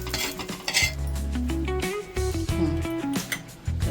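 Fried ridge gourd peels are moved from a pan into a dish: close metallic scrapes, clinks and knocks of a spoon against cookware, with faint sizzling and tonal background music underneath.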